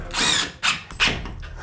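A power drill drives screws into a drywall ceiling in three quick, loud whirring bursts, each starting and stopping sharply, close by and with no speech.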